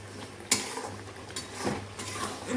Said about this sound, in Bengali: এবার এটাকে ভালো করে মিক্সড করে নিই